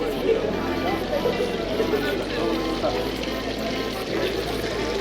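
Water runs through the old channels of the Alhambra Palace in Granada, Spain, as a steady trickling flow under constant crowd chatter and nearby talking.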